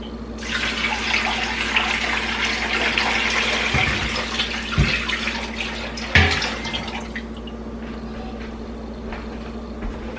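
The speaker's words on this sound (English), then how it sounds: "I'm going to add a little bit more water" Water runs steadily for several seconds, a continuous splashing stream poured into a pot, with a couple of knocks partway through before it thins out.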